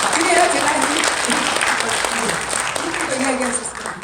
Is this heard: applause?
yes